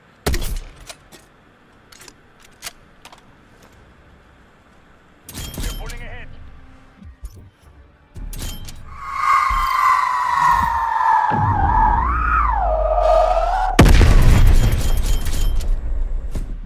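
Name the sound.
shooting spawn tube, explosion in Black Ops Cold War video game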